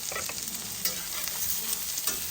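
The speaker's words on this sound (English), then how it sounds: "So I'm going to get the cabbage in, get that stirred around" Cabbage is stirred into a hot frying pan with bacon and mushrooms, giving a dense, loud sizzling hiss with soft scraping stirs throughout and no voices.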